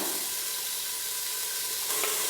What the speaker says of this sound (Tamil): இப்போது வெங்காயம் சேர்த்து நல்லா வதக்கிடுங்கம்மா